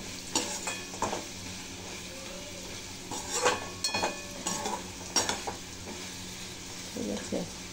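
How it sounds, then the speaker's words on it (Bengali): Potatoes and mushrooms sizzle softly in a pan at home while a utensil stirs them, giving intermittent scraping and clinking strokes over a low, steady fry. "আলুটা বেশ ভালো করে ভাজা ভাজা করে নিয়েছি"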